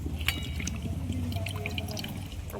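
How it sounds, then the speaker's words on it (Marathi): Running water splashes and drips steadily as fresh ginger and coriander are rinsed in a kitchen, a close, continuous trickle with small bright splashes throughout. "अद्रक पण धुवून घेऊ मस्त।"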